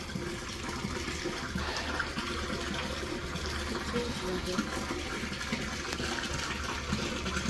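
Water gushes steadily into a one-barrel brewing kit, a continuous rushing fill sound heard close, with someone talking over it.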